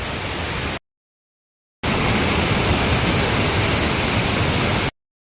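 A waterfall roars as a steady, dense wash of noise. It cuts out briefly and then returns at the same even level.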